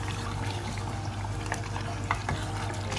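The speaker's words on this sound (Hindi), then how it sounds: "दही डाल के हम इसे फिर से भूनेंगे" Masala beef liver frying in a pan with yogurt stirred in, giving a steady, close sizzle with scraping and stirring throughout.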